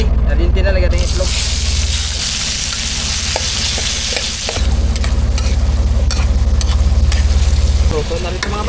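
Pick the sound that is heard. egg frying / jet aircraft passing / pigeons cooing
egg frying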